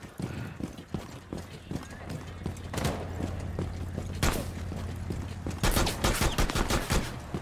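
Bursts of gunfire ring out in the console video game Rainbow Six Siege, rapid automatic rattles and single shots amid clattering footsteps and mechanical noises, fairly busy and mid-distance.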